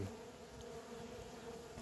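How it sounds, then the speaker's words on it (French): Honeybees at a hive hum in a steady, low, continuous buzz, moderately quiet and close, with a short thump at the very end. "les abeilles, je vais les taper dans la ruche"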